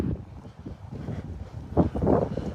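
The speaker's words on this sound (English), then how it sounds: "I'm sorry it's so windy" Gusty outdoor wind buffets the microphone in low, uneven rumbles and thumps, swelling louder toward the end of the short stretch.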